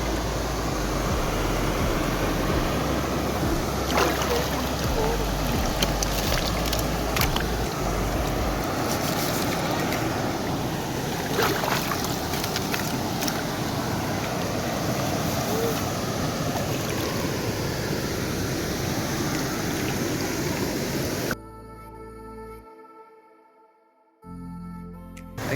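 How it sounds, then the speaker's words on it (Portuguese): Water from a waterfall rushes in a steady, broad roar that stays even and fairly close, then abruptly cuts to near silence toward the end. "Nós estamos aqui na cachoeira."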